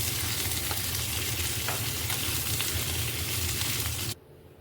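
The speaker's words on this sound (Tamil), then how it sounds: "கொஞ்சமாக உப்பு போட்டு வதக்கலாம்." Bitter gourd sautés in sesame oil in a clay pot with a pinch of salt, giving a loud, steady, close sizzle that runs unbroken for about four seconds and then cuts off abruptly.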